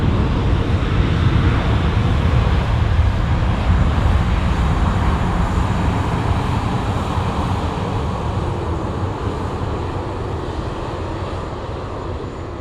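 An Emirates airliner taking off at Sydney Airport at night, its engines giving a loud, continuous jet roar that fades slightly as it climbs away, steady throughout with no talk.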